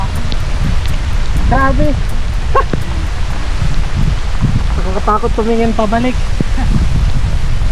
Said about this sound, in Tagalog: Tuluyan ng lumakas ang buhos ng ulan kaya halos mabasa na ang aming buong katawan.